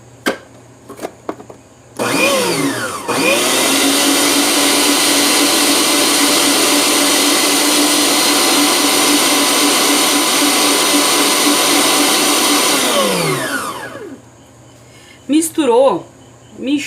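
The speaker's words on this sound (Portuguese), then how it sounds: "200 gramas de açúcar na batedeira. Vou botar bater um pouquinho só pra misturar." A stand mixer starts up on eggs and 200 grams of sugar for a sponge cake and runs for about eleven seconds as a loud, steady, close whir, with short bursts of talk before and after.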